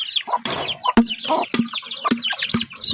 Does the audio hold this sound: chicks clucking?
yes